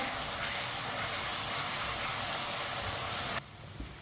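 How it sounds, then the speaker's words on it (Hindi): A loud, steady broadband hiss of onions frying and browning in a pan over a medium flame while aloo shimla mirch is being made. It cuts off abruptly near the end, leaving a quieter background. "प्याज को हल्का सा ब्राउन कर लेंगे। 3-4 मिनट के लिए पका लेंगे।"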